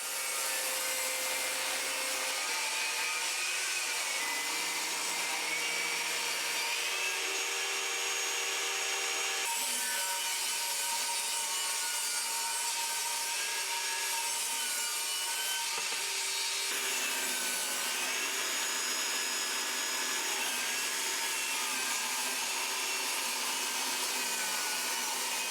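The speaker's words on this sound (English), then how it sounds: "So now I can go to the table saw, run these flat surfaces along the bed of the saw and against the fence and get some strips ripped down" A table saw rips wood strips for cutting boards, a loud continuous whining cut with shifting pitch as each strip passes through, close and steady with no voices.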